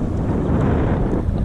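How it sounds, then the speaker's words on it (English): Strong gusty wind on the water buffeting the microphone, a loud low roar that fills the whole moment without any voices. "It is a bit windy there."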